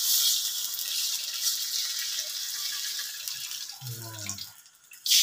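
Water poured into a cooking pot while preparing a fish soup, a steady splashing stream that thins and stops near the end, followed by a brief clatter.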